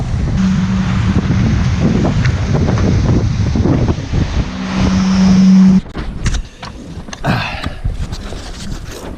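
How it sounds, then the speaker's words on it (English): Strong wind buffets the microphone aboard a sailing boat racing the Solitaire du Figaro, a loud, steady rush with water sloshing beneath, then eases into choppier gusts and splashes. "Should have had more wind like this so far."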